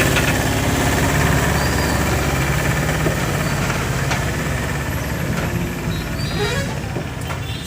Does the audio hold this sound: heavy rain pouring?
no